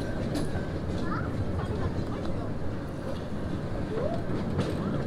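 The Afrika Express, a long safari tour train at Serengeti Park Hodenhagen, rolls along its track in a steady, close, continuous rumble with faint rail squeals, heard from the rear of the train.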